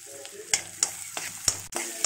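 Onion cubes and capsicum pieces for veg manchurian sizzle steadily in a hot pan, with a few sharp clinks of a spoon stirring at irregular intervals, close and moderately loud, no voices.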